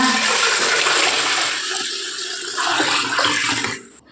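Water pours in a loud, steady rush close by, splashing into a pressure cooker for a few seconds before cutting off abruptly.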